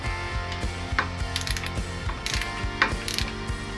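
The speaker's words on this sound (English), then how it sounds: "Set a torque of 8 Nm, that will tension the belt, and just torque the other 2 nuts and 1 bolt to spec." Close, rapid clicking of a torque wrench ratchet tightening alternator belt nuts on a BMW R1150GS motorcycle, in several quick bursts with brief pauses between strokes.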